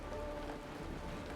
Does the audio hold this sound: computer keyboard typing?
no